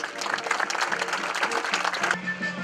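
Applause from an audience at a horse show, a moderate, steady clatter of many hands with some louder individual claps and faint background voices.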